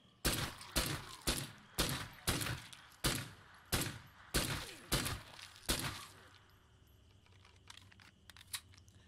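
A silenced, scoped pistol in State of Decay 2 fires about nine sharp suppressed shots at a steady, even rhythm, close and crisp, followed by a quieter mechanical tail with faint clicks.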